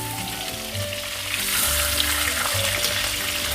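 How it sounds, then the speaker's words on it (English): Fish sizzles and splutters loudly in hot oil for a mustard fish curry, a dense continuous crackle that grows stronger partway through, close up with no talking. "Now please be careful while adding the fish because the oil will splutter"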